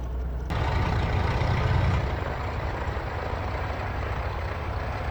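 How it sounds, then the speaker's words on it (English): Simulated Cessna 414AW Chancellor twin-engine aircraft in MSFS 2020, left engine starting: a click, then a low rumbling engine rising and settling into a steady idle drone, heard alone. "beautiful engine sounds as we start the left engine"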